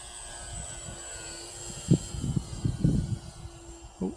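A Dynam Messerschmitt BF 110 V3 RC model plane flies on its maiden flight over a field. Its electric motors whine thinly and steadily at a distance under a few low gusty thumps.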